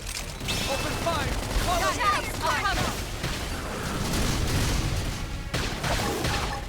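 Gunfire in the video game Xenoblade Chronicles X, a dense clattering fusillade of shots and impacts that runs continuously over a battle soundscape, with voices speaking over it.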